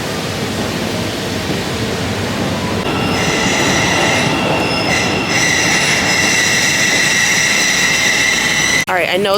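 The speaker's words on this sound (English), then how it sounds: "There's a bunch of trains going by" Trains roll past a station loudly and continuously, a heavy rumbling roar joined midway by sustained high metallic wheel squeal, ending with an abrupt clunk.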